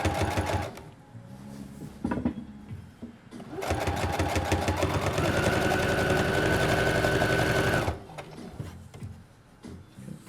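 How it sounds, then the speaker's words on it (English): A sewing machine stitching the seam of tapered pants, bursts of rapid needle clatter and motor hum, with a long steady run in the middle and quieter handling noises between stitching passes. "And just sew all the way through and pull your pins out as you're sewing"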